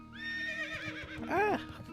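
A horse in World of Warcraft Classic neighs, a clear whinny with wavering pitch rising to a louder, sharper cry near the end, over faint clip-clop hoofbeats and game ambience.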